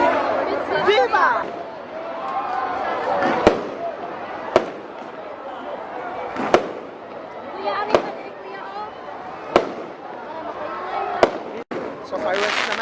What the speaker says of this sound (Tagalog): So nanonood tayo fireworks ani.